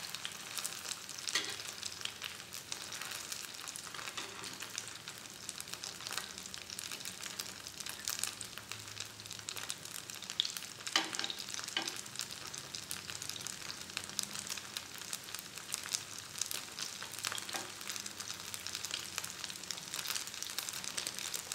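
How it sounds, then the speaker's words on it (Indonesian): Cilor, egg-coated cassava-starch snacks, fry in hot oil that spatters continuously, making a dense, even crackling sizzle with faint stirring and no voices. "Jadi ya ini apinya minyaknya loncat-loncat terus."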